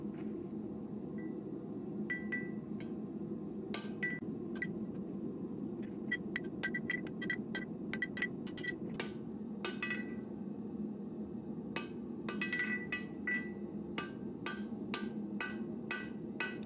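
A hammer forges knife steel over the edge of an anvil to shape the blade-to-handle transition, a series of sharp metallic clinks in an irregular rhythm over a low background rumble, fairly faint overall.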